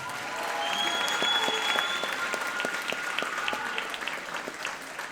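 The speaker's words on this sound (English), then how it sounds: "Give him a round of applause." Audience applause at a middle school popular music concert, honoring the drum set player: steady dense clapping from a sizable crowd, fairly loud and sustained, with a few sharper individual claps standing out and a faint tonal hum behind.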